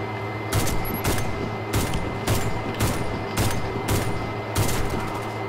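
Gunfire in the shooter game Warface: a rapid string of sharp, loud shots spaced roughly half a second apart over a steady low background hum, with no talking.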